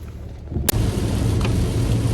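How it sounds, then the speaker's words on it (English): Dense, steady rain pours continuously at close range, with a sharp crack near the start and no voices. "This rain has been going on since, pretty hard since about 8 o'clock"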